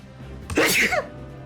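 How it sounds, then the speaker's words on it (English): A single loud, close human sneeze, a short sharp burst, alone and with no talking. "a sneeze. Hold on."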